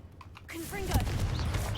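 A Confringo explosive spell fires in Hogwarts Legacy, a short burst of crackling blasts and a rising whoosh that swells loud and sustained over a low rumble, with a voice speaking just before it.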